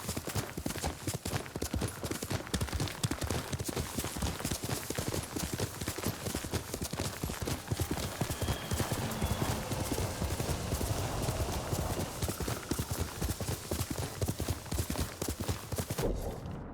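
Galloping horse in the Ghost of Tsushima video game, with rapid steady hoof clip-clops close and loud for the whole stretch, a brief whinny possible, fading out at the very end.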